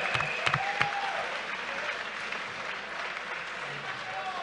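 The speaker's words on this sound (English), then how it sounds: "Give them a round of applause!" Audience at a mixed martial arts fight applauding, a dense wash of clapping from a crowd with a few sharp louder claps early, steady and fairly distant, with voices over it.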